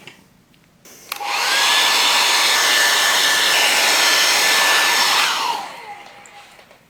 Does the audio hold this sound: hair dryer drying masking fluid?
yes